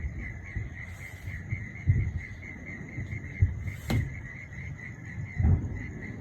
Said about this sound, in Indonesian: Ternyata banyak jangkrik juga kayaknya.